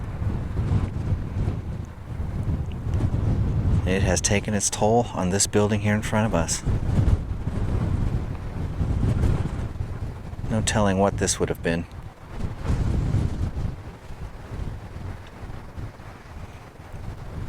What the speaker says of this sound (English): you can hear the wind is pretty ferocious